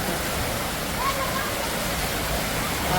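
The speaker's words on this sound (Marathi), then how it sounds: "पाऊस जोरात आला" Heavy evening rain pours down in a steady, dense roar that stays loud and unbroken from start to finish.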